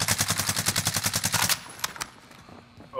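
Rapid automatic gunfire in a video game sounds as a loud, evenly spaced burst for about a second and a half, then gives way to a few scattered distant shots, with no talking.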